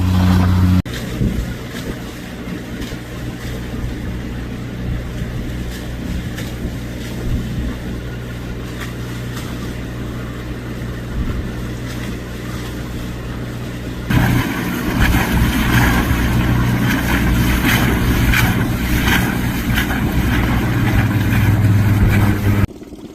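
Aircraft engine on a fast taxi downwind, then revving up for takeoff upwind at Port Davey; a steady engine drone runs throughout, growing louder and rougher partway through as power increases for the takeoff run.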